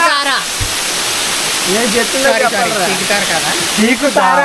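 A constant rushing roar of falling water from Cheekudhara Waterfalls, near Rajavommangi in Andhra Pradesh, fills the scene while a person talks over it.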